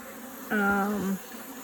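A bee in a donated top bar hive gives one short, close buzzing pass of about half a second over a quiet background.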